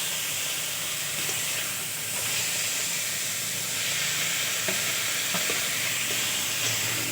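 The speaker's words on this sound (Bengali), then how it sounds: "বেগুনগুলো দিয়ে খুব ভালো করে মিশিয়ে আরও কিছুক্ষণ রান্না করে নেব, এভাবে নাড়াচাড়া করে" Fried brinjal pieces being stirred into methi saag cooking in a pan, a steady, steamy sizzle and hiss with soft scraping from stirring, close and continuous with no voices.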